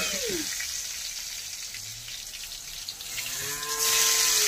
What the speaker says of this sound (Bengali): গরু ডাকছে